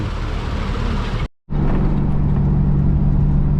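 Steady road rumble and engine drone from inside a moving delivery car, with a brief cut to silence before the loud, continuous cabin noise resumes.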